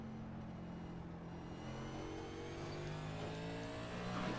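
A race car engine in a racing game winds up steadily, its revving climbing toward the rev limiter at Martinsville with a sustained, rising harmonic whine and no talking.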